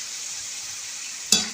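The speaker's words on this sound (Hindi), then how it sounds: "एक तरफ मेरी सब्जियां फ्राई हो गई हैं" Vegetables for Chinese biryani fry in a pan with a steady close hiss of sizzling oil, ending in a sudden louder burst as they are stirred.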